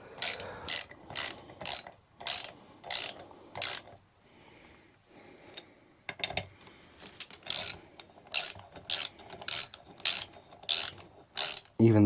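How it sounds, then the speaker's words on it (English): A hand ratchet tightening the jack shaft bolts on an Arctic Cat Ramrod frame: close, loud bursts of regular clicking strokes, a short quiet pause with faint rubbing, then faster clicking resumes. "Ratchet instead of a power tool"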